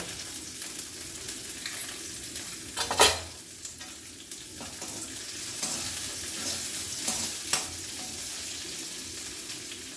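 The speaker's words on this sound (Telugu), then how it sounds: "ఇదిగో చూసింది కదా మిరపకాయలు వేగిపోయాయి" Green chillies and cumin fry in a pan with a faint, steady sizzle. A couple of sharp scrapes or stirs cut through it. No one speaks.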